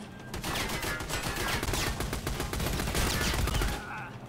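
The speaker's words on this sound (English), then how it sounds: "Who is shooting at me?" Sustained gunfire in the co-op shooter Army of Two, dense overlapping automatic bursts and shots filling several seconds at steady loudness before tapering off at the end, with no clear speech over it.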